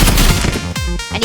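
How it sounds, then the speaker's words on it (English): Loud, dense bursts of paintball gun fire in a video game, rapid shots overlapping with crashing impacts across a short busy stretch, with no talk. "I just keep forgetting how much damage the paintball gun does."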